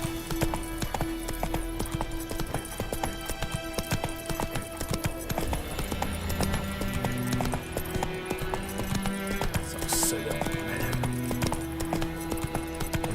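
In the video game The Witcher, a horse trots with quick, steady clip-clopping hooves throughout, over a faint background tone, with no talking.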